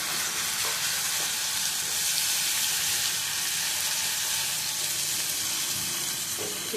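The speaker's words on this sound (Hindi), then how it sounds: "तो इसको भी 2 मिनट भून लेते हैं।" Ginger garlic paste fries in a hot pan with a continuous loud sizzle and hiss, steady throughout with faint stirring scrapes and no talking.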